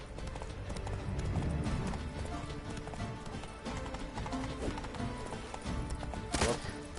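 Roach the horse gallops in The Witcher III: Blood and Wine, a fast continuous clip-clop of hooves over game ambience lasting several seconds, close and steady, with a sharp burst near the end.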